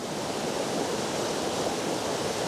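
A waterfall pours into a rushing creek, steady broadband water noise at an even level throughout, with no voices.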